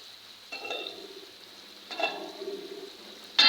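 Roast meat going into a pan of hot spices, with three separate bursts of sizzling and stirring scrapes against a quiet background. The last burst is short and sharper.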